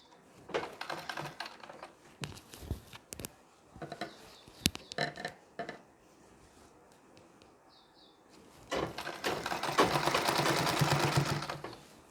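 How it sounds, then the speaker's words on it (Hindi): Sewing machine stitching a strip onto a Nauvari saree with large stitches, short bursts of rapid needle clatter early on, then a longer steady run of stitching near the end, close and fairly quiet. "इसी तरह से पूरे राउंड में सिलाई लगा के इस पट्टी को जोड़ लेना है"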